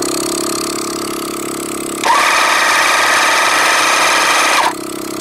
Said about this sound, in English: And I got even a bigger compressor, my Vi-Air compressor, so we'll fire that up.